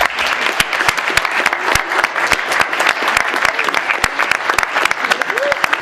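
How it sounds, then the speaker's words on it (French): A live audience applauds for Blanche Ravalec, the actress who played Dolly in Moonraker, at a James Bond fan club's tenth-anniversary celebration: steady, dense clapping with some sharper individual claps standing out, sustained throughout. "Je vous demande d'applaudir Blanche Ravalec."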